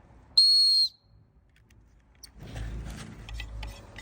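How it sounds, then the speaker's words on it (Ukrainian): One short, shrill blast from a survival whistle built into a multifunction axe sounds clearly, followed by quiet and then low rustling and handling noises. "Відкручуємо огниво і буде у нас свисток."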